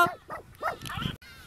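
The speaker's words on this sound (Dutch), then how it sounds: "Ach, Gucci blaf" A dog gives a few short, high yips and barks in quick succession at close range, mixed with people talking nearby in a home setting.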